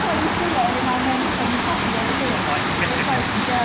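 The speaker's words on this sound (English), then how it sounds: "So we're in the waterfall now." A Yorkshire waterfall pours in a continuous broadband roar heard from very close, steady and loud from start to finish, with faint voices under the rushing water.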